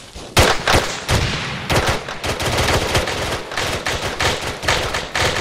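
Gunfire in a co-op military video game: dense, loud bursts of automatic and single shots overlapping continuously, with some heavier booming impacts mixed in and no clear talking.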